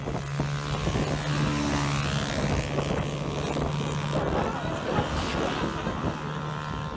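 A motorbike-engine-powered wheelie bin whines and buzzes as it drives past close by, with wind buffeting the microphone and people talking over it.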